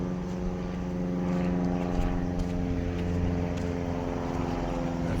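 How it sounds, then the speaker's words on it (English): Airplanes passing overhead and road traffic along a walking path by a creek, a steady droning engine rumble with a low hum that swells slightly midway, continuous and moderately distant with no pauses. "I've got planes flying over, I've got traffic."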